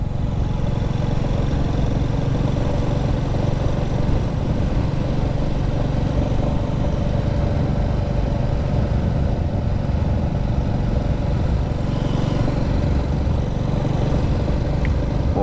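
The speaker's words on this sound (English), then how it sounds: "the effortless ticking over of this single cylinder air-cooled engine" A Royal Enfield Classic 350 single-cylinder air-cooled motorcycle engine ticks over steadily with a low, even thrum, continuous and moderately loud throughout with no voices.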